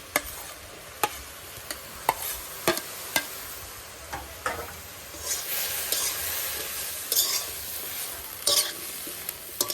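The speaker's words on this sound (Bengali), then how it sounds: "কাঁচামরিচ পেঁয়াজ দিয়ে দিব বরবটি ভাজার মধ্যে।" Green beans frying with green chili and onion, a steady sizzle punctuated by frequent sharp clicks and scrapes of stirring against the pan, close and moderately loud, with no voices.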